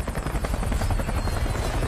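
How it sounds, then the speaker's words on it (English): Helicopter in the 2002 war film We Were Soldiers: a loud, close, steady rotor chop with a dense engine roar running without a break for about two seconds. "The helicopter, they don't even touch the fucking ground."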